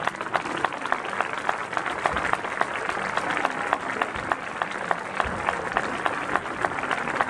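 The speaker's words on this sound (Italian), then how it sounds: "E applaudì la banda e i sonninesi." An audience at a music school recital applauds the Sonnino town band, producing sustained, dense clapping throughout with steady intensity.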